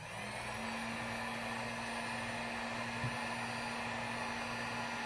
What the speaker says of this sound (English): I'm going to start the heat gun.